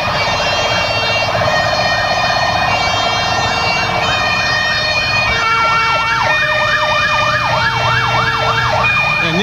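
Loud wailing Brazilian police car siren sweeping up and down repeatedly, close by, over steady traffic rumble, escorting a truck in a funeral procession, with a second siren pattern joining partway through.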